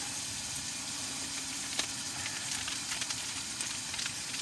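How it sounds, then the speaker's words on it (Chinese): Garlic hitting a hot pan at a roadside campsite, giving a steady broadband sizzle and crackle with a few sharper pops, fairly close and continuous throughout. "现在加入大蒜"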